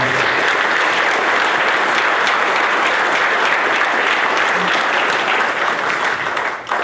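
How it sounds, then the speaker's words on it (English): An audience bursts into sustained, loud applause at an anniversary celebration for a 1956 Corvette NASCAR racer, steady clapping filling the whole stretch before tapering off slightly at the end. "Let's hear it for Bill Tower."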